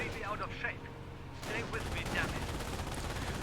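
Rapid gunfire from units in Company of Heroes 1 targeting a Kettenkrad, heard as dense overlapping bursts that run continuously at a fairly low, steady level, louder in the second half.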